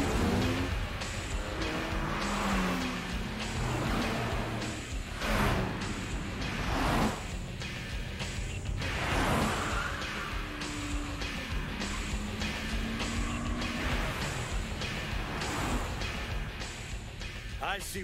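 A Mazda RX-7 FD and a Nissan Skyline GT-R R34 race in the Initial D anime, engines rising and falling with whooshes and tire squeals beneath voices talking over the action.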